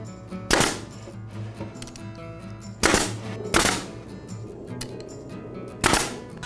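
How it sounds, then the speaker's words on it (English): A brad nailer fires into wood while fences are attached to rails, giving four sharp, loud pops at uneven intervals over a quiet workshop background, with no talking. "Now I attach the fences to the rails with glue and brads."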